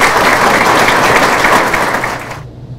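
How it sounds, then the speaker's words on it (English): Loud, dense applause from an audience at a police promotion ceremony for a new sergeant, sustained and then cutting off sharply near the end. "Let's give Jim a loud round of applause"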